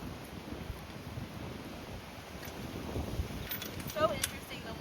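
Steady wind buffets a microphone outdoors at a purple martin nesting site at Disney's Caribbean Beach Resort, a continuous low rumbling roar with gusts swelling slightly toward the end.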